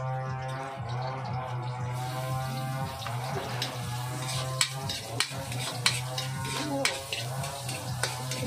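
Onions sautéing in a pan for a Bicolano crab-and-squash dish, a steady close sizzle with a low hum underneath and occasional sharp clicks of a utensil against the pan.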